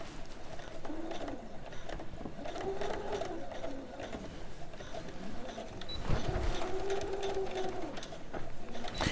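A sewing machine stitches a diagonal line on a blouse in two steady whirring runs with a short pause between them, fairly quiet and close, with faint background sounds.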